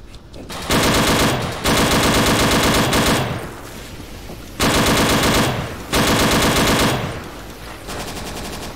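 Loud, close automatic gunfire erupts in long sustained bursts in the WW2 dinosaur shooter game Dino D-Day, cutting off between volleys into quieter background rumble.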